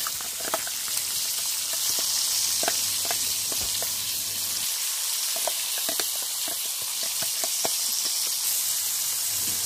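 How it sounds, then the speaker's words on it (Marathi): Masala spices sizzle and crackle in a hot pan with a bell pepper curry, a continuous close hiss broken by scattered sharp pops, with no talking. "आता आपण यात मसाला टाकून घेणार आहोत।"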